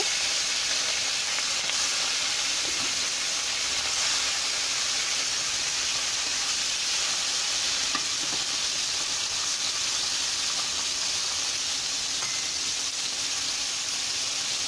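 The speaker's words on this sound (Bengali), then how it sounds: "মাছগুলো এভাবে ভেজে নেব আমি" Turmeric-coated fish fries in hot oil, a steady loud sizzling hiss that continues unbroken throughout.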